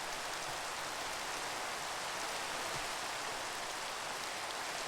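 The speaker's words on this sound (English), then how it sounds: "Go away, Rain. Nobody likes you." Steady, even hiss of rain falling in the blocky survival game Minecraft, dense broadband patter throughout with no pauses and no voices.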